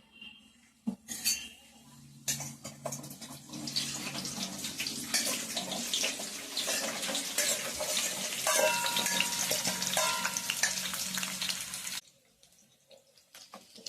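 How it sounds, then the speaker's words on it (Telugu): Pieces of amla (Indian gooseberry) drop into hot oil for a traditional Telugu pickle and sizzle loudly and steadily in a broad hiss, starting after a brief clatter and cutting off abruptly near the end. "ఆయిల్ వేడెక్కిందండి. ఉసిరికాయ ముక్కలు వేసుకుందాము."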